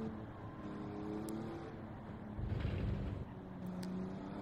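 Racing car accelerating in Gran Turismo 7, a steady low engine drone that swells briefly in the middle before settling, with no talk over it.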